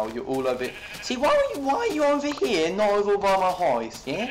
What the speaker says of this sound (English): so many sheep, finally!